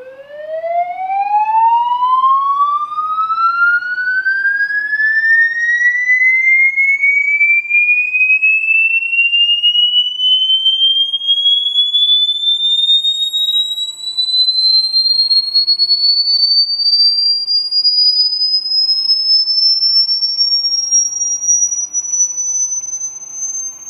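A phone plays an alarm tone at full volume in a room being tested with acoustic foam: one loud continuous tone sweeps steadily upward in pitch for about 24 seconds, with no talking.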